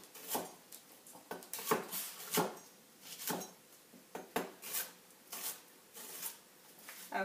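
A knife slicing through Brussels sprouts on a cutting board, each cut landing as a distinct thud with a crunchy crackle, repeated at a steady, unhurried rhythm close by.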